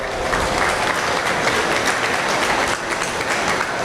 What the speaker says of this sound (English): Let's give all these young folks that showed a round of applause as well.